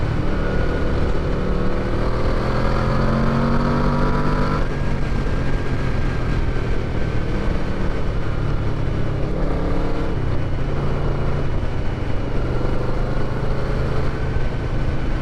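Yamaha VMAX V4 muscle bike engine droning continuously and loudly while riding, with a shift in pitch partway through and steady wind-blown roar, no talking.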